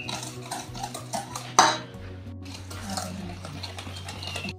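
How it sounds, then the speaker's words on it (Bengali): Melting sugar stirred in a pan for a semolina and tutti-frutti Bapuji cake, soft scraping strokes with one sharp metallic clink partway through. "নেড়ে নিচ্ছি, গলে গেছে এখন চিনিটা।"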